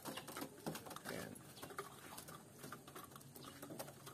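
Racing pigeons peck at a recovery grain mix after a derby, a soft, busy patter of beaks on feed with an occasional faint coo, quiet and close.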